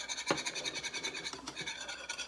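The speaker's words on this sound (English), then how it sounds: "I'll scrape out the last little bit here." A spoon or spatula scrapes the last bit of cornstarch sauce mix out of a bowl for lemon chicken, a steady run of close rasping scratches with a few louder strokes, no voices.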